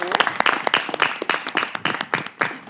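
Audience applause at a live French-language talk show, a roomful of people clapping together in a dense, steady burst that carries on for about three seconds.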